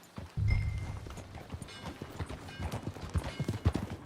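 Horse hooves trot along in a steady clip-clop rhythm, moderately faint, with a soft background ambience from the video game Red Dead Redemption 2.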